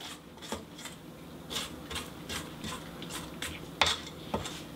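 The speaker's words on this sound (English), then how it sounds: "Go ahead and scrape down your sides." Vegan lemon frosting is mixed in a bowl while the sides are scraped down, a quiet, rhythmic series of scrapes and light clinks repeating about twice a second, with no voices.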